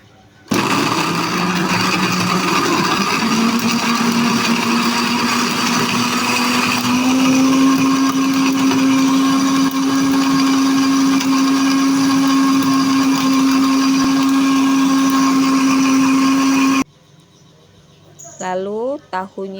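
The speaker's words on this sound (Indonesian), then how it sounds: "Ini akan ku blender halus." An electric blender grinds stew spice paste with a loud, continuous whirring motor whine that rises slightly in pitch partway through and stops abruptly near the end, followed by brief talking.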